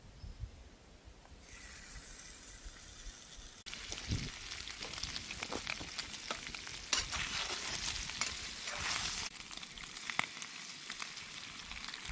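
Bacon fries in a pan at a high-country 4WD campsite, a steady crackling sizzle with popping spatters that grows noticeably louder a few seconds in and continues unbroken.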